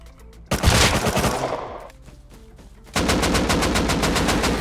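Automatic gunfire from M2 weapons in the survival game Rust, a loud sustained burst that fades, a pause, then another dense rapid-fire stretch of shots.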